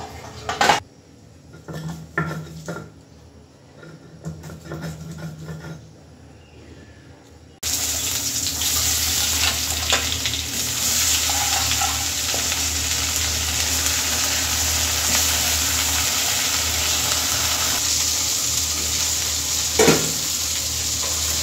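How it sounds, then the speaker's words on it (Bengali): Steady frying sizzle of stinging catfish in a pan fills most of the clip after a quieter start with a few kitchen clatters, continuous and fairly close. "ওদিকে মাছটা ভাজা হচ্ছে"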